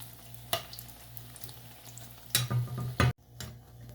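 Battered eggplant slices fry in hot oil with a steady soft sizzle, broken by a few sharp clicks and clatters from turning the pieces, close and fairly quiet, with no talking.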